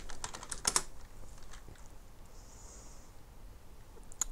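Quiet computer keyboard typing with a quick cluster of key presses at the start, then a few sparse isolated clicks, close and soft with no talk.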